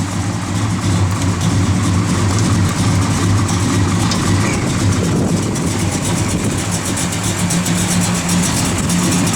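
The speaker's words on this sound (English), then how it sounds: "Car's got a good sound, I'll tell you that right now." A 1970 Plymouth Road Runner engine idling, a loud, steady, deep rumbling throb that holds evenly throughout with no talking.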